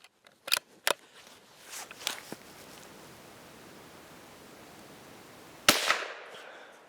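A Savage 93 .22 WMR rimfire rifle fires one sharp, loud crack near the end, preceded by a few smaller clicks and handling noises, with a quiet outdoor hush between.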